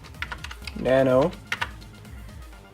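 Quick keystrokes on a computer keyboard enter a terminal command while a Raspberry Pi arcade machine is set up with RetroPie. Close, crisp clicks come in short bursts before and after a single spoken word.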